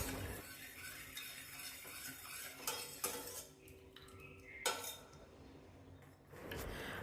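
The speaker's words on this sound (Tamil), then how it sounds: "பருப்பு, பைனாப்பிள், தக்காளி எல்லாத்தையும் கரண்டியில் கொஞ்சம் மசிச்சு விடணும்." Metal ladle scraping and mashing cooked lentils, pineapple and tomato in a pot for pineapple rasam, with repeated clinks and scrapes against the vessel, fairly close and moderately quiet, no talking.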